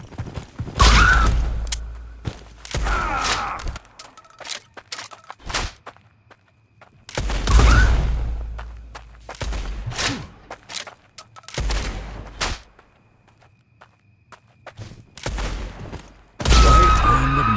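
Gunshots from the player's gun in the video game Blood West, loud sharp blasts fired one at a time at irregular intervals with quiet gaps between, several shots across the stretch.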